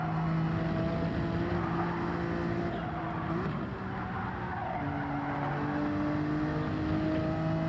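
Race car engine in Gran Turismo 7 holding steady tones with a pitch shift partway through, loud and continuous with tire squeal, no talk.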